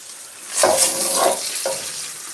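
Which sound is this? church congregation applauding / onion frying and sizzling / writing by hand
onion frying and sizzling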